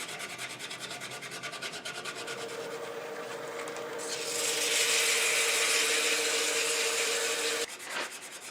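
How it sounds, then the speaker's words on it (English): A wooden pendant spins on a lathe under sandpaper, giving a steady rubbing hiss that swells louder midway, then breaks off abruptly near the end. "I'll sand that up to about 400."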